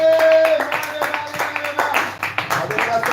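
A church congregation claps together in a loud, dense burst of close applause, mixed with voices and a sustained tone, continuing steadily for a few seconds.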